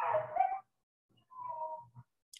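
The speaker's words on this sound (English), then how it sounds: "a couple dogs fighting" A couple of dogs fighting give short whimpering yips and growly barks in two separate bursts with silence between, fairly quiet and close.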